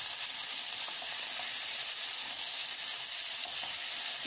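Pasta sauce ingredients sizzle and fry in a hot pan, a bright, steady crackling hiss that stays constant and close with no voices.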